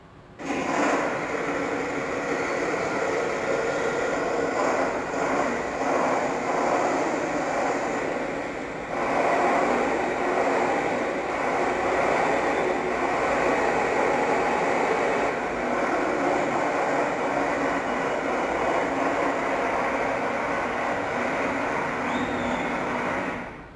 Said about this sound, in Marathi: ही आहे मेट्रो।